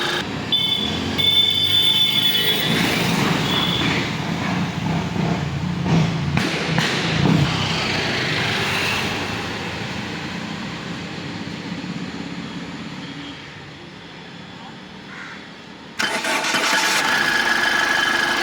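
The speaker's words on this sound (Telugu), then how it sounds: "సార్ ఇంజిన్ ఆఫ్ చేసి మళ్ళీ ఆన్ చేస్తాను, చూడండి." A 2017 Ford EcoSport Titanium engine rumbles steadily, quiets briefly when switched off, then restarts on a single crank with a sudden jump back to full idle near the end.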